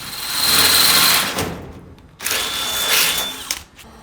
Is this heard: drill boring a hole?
yes